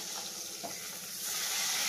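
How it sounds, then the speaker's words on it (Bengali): Fish frying in a home kitchen pan, a dense continuous hiss and crackle of hot oil that swells slightly louder toward the end, with no voices. "এখানে মাছ ভাজা হচ্ছে"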